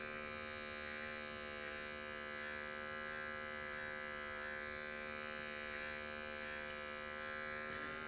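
An adjustable hair clipper on its longest, open setting cutting a low fade, giving a continuous steady electric buzz with a bright whine, close and unbroken, no talking.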